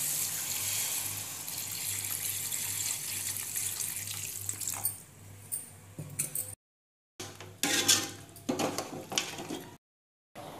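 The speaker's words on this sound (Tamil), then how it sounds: "இப்போ கறிக்கு தேவையான தண்ணி ஊற்றலாம்." Water being poured into a pot of lamb curry in a South Indian village kitchen, a steady splashing stream that breaks off into a few short bursts and brief gaps.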